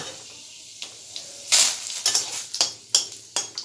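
Whole panch phoron five-spice and a bay leaf hit hot oil, starting from quiet scrapes and clinks, then bursting into sharp sizzling spurts amid stirring near the pan.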